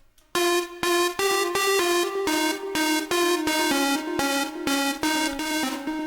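Two stacked synth layers play a remix melody together, a dense, bright sound of rhythmic notes stepping through a short phrase, loud and close with no talking.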